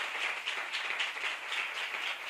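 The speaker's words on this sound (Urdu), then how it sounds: "آئے ہم خدا کے لیے زوردار تالیاں بجائیں" A church congregation claps steadily together, a dense continuous patter of many hands with no voices over it.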